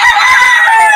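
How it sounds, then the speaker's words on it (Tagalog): A rooster crows loud and close: one brief, strained, high crowing call filling the whole moment, with no voices. "pakawalan mo lahat ng manok dito"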